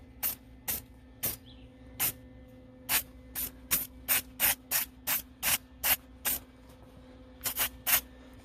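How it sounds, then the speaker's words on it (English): An aerosol can sprays in about twenty short, sharp hissing bursts, some quick and closely spaced, close by against a quiet background. "we're going to spray paint that"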